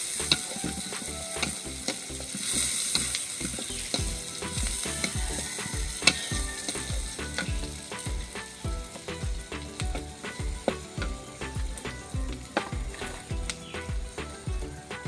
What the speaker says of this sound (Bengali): পেঁয়াজ এবং একটু কাঁচা মরিচ ভালো করে ভেজে নেব